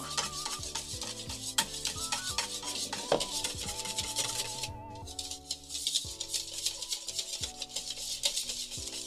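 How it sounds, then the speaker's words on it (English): A dark cornflake dreamcake mixture is stirred in a bowl, making soft, steady scraping and rubbing strokes close by, under cheerful background music. "now we are going to stir this together"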